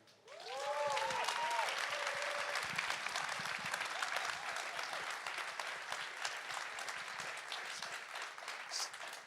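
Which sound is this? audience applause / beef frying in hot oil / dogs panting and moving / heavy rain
audience applause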